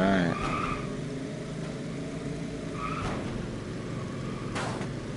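A race car scraping along a wall in the top-down arcade racing video game Race Arcade, with screeching tire skids and a droning engine hum, the squeals returning in short bursts.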